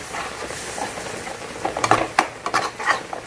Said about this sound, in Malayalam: അതിൻ്റെ കൂടെ തേങ്ങാപ്പാൽ, നന്നായിട്ട് മിക്സ് ചെയ്യാം.